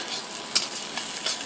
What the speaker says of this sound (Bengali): এখন ডিমটা ভালো করে ভেজে নেব